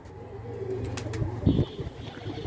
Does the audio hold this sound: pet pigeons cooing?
yes